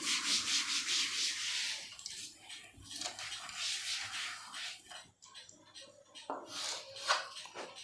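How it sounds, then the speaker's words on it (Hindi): Writing being rubbed off a classroom board with a duster during a maths lesson, repeated scraping strokes in uneven bursts, close and fairly loud, with brief muffled voice sounds between them. "चलो इसको भी रब कर देता हूँ"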